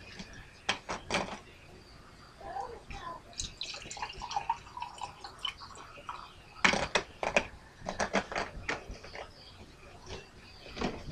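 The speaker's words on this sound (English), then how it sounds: "Then you're gonna put in some cranberry juice." Cranberry juice is poured into a gin drink mix, bringing faint liquid splashes and drips along with scattered bottle and glass clinks, quiet and close, in a kitchen setting.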